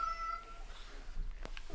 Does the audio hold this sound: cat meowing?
yes